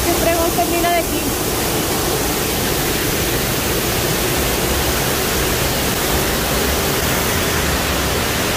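Roaring waterfall spray at a scenic spot, a steady loud broadband rush of falling water filling the scene throughout, with a voice briefly audible near the start.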